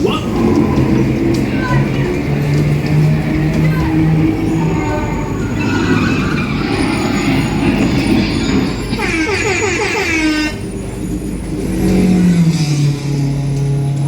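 Dodgem bumper cars run at a Perth, Scotland funfair, a loud continuous electric rumble and whine from the ride with rising and falling tones, mixed with fairground noise and people talking nearby.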